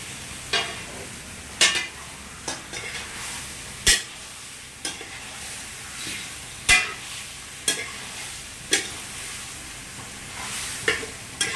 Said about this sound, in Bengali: এটা এখন কষানো হচ্ছে।